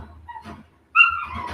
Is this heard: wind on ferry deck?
no